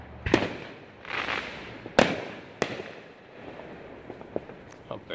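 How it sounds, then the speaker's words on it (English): Fourth of July fireworks burst over Baltimore at night in a series of sharp, distant booms and crackles, spaced irregularly, with a faint hiss of outdoor ambience between the bangs. "I'm barely catching these fireworks."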